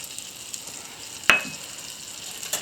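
Garlic chunks frying in a pan for black tar pork, a soft steady sizzle with a single sharp tap partway through and a faint click near the end.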